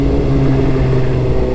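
A Suzuki GSX-R motorcycle engine revs loudly and steadily with a deep, sustained droning roar, heard close as the throttle is held open briefly.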